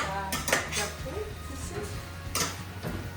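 A spoon stirring a potato dish in a metal pot, giving scattered clinks and scrapes against the pot over several seconds, fairly faint, with people talking under it.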